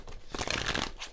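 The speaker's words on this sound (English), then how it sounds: "So let us do another good old shuffle" A deck of tarot-style cards being shuffled, a short close crinkling riffle lasting about a second, heard alone.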